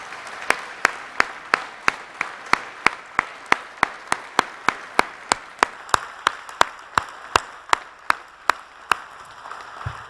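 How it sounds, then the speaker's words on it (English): An audience at a convocation claps for new graduates, heard as sharp, evenly spaced claps repeating about three times a second for ten seconds, crisp and close, with no talking. "give them their very first round of applause as graduates"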